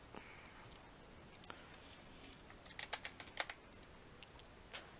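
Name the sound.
typing on a computer keyboard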